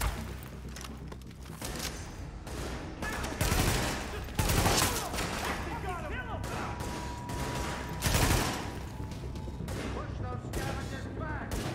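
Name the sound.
gunfire in The Division video game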